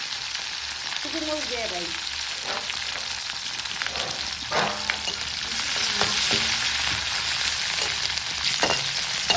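Oil sizzles and crackles steadily in a pan while olkosu is being fried and stirred, a continuous hiss with scraping stirs, and a voice speaks briefly over it.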